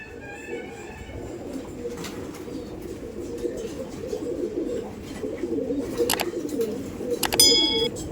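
Madrasi pigeons in a loft keep up a continuous low cooing, with a few sharp metallic ticks and clinks near the end.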